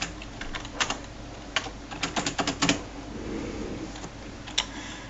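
Quick bursts of keystrokes on a computer keyboard, clustered in short runs of clicks and then tapering to a few isolated taps, recorded close over a low steady room hum.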